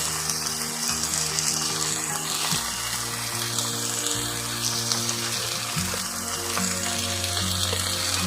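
Onions frying in a pan of oil for a Bengali bhola fish curry: a steady hiss and sizzle, with a low mechanical whirring hum running underneath and stepping in pitch.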